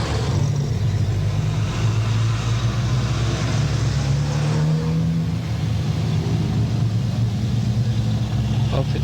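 Holiday road traffic streams past along a half marathon route in 1984, a continuous wash of car engines and tire noise with occasional revving, while a commentator talks over it.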